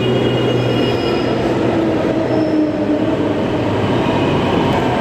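A Delhi metro train runs with a continuous loud rumble of wheels and carriage noise and a faint high whine, with no speech over it.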